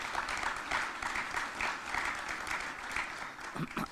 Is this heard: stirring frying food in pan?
no